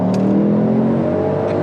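Mercedes-AMG GT63 engine growling under acceleration, a loud, continuous, close harmonic roar holding steady for under two seconds with no talk over it.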